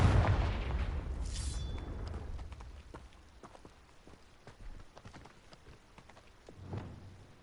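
A Confringo spell blast from Hogwarts Legacy bursts loudly at the start, leaving a rumbling, decaying tail and scattered faint crackles, with a smaller thud near the end and no voices.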